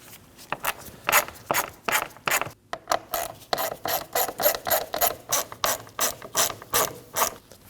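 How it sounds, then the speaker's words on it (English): A ratchet with a T25 socket backs bolts out of a 2011-2016 Kia Optima front power window motor on the bench, close rapid clicking bursts repeating in a steady rhythm of about a dozen strokes with a brief pause near the start. "Using a T25 socket, go ahead and take these 3 bolts out."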